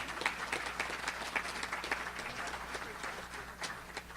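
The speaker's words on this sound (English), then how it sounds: "Yes, we can clap for Dr. Forsthoffer." Audience at a high school athletic hall of fame induction ceremony claps for an honoree, a faint, distant patter of scattered hands in a large room, with a low hum beneath.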